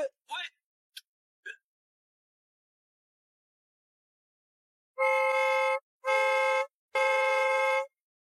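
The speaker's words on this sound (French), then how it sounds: "Pourquoi vous klaxonnez?" Three long, loud car horn blasts sound in quick succession, each about half a second, after a few short voice sounds near the start.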